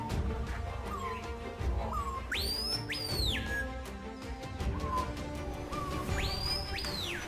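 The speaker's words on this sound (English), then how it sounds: "Screaming piha." A screaming piha calls with loud, ringing whistled phrases, a low note sweeping up into a sharp, piercing whistle, heard twice a few seconds apart over steady forest ambience.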